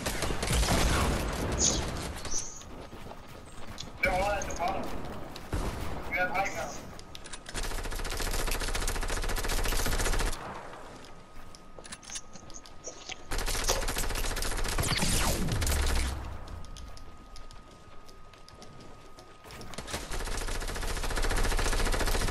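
Rapid automatic gunfire in the video game Fortnite, bursts of shots loud and continuous across most of the stretch with brief gaps, game effects and a steady tone underneath.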